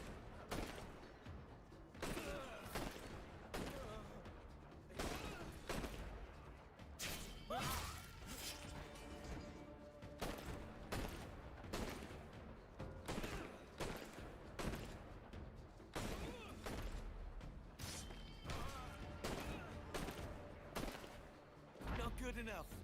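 Rapid bursts of gunfire in a video game's endless gauntlet, crowded with sharp percussive shots and crashes that keep coming in dense volleys throughout, with a voice talking over parts of the action.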